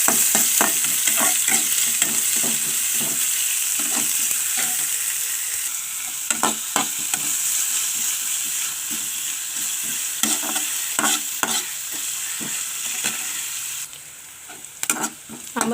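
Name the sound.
mustard seeds, onion and green chilies frying in hot oil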